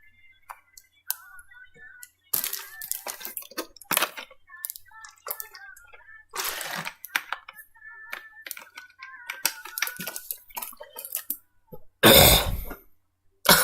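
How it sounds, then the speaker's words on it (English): A person coughs and clears their throat right into a close microphone in several harsh bursts, with quiet clicks between them and a loud rough blast near the end. "Should have coughed to the camera or coughed to the mic."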